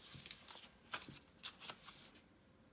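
Several short, crisp snips and rustles of paper, spaced unevenly, fairly quiet and close, with no talking.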